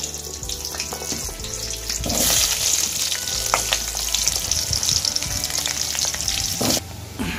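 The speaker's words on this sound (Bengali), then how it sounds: "আলুগুলো আমার অল্প ভাজা হয়ে গেছে" Potatoes fry in a pan, a steady loud sizzle that swells midway as they are stirred, with scraping and clatter of the utensil, no talking.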